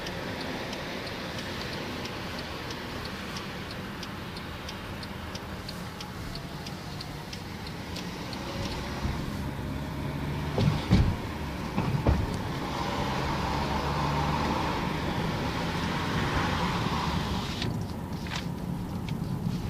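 Steady road and tire rumble inside a Mercedes E180 on the move, an even hum with faint ticking and a few small bumps midway.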